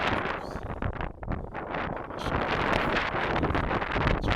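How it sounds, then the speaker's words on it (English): Strong wind buffets a frozen boat deck during a snowstorm, a constant, rough gusting roar that swells and fades close to the microphone, with no talking. "the wind in my back"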